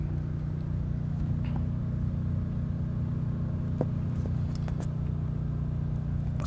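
Generator running outside a VW bus, a steady low mechanical hum and rumble heard from nearby, continuous and even with a few faint clicks over it.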